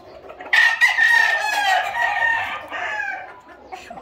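A loud, close crow from a gamecock rooster stretches out over a couple of seconds, followed by softer clucking against a quiet background on a ranch.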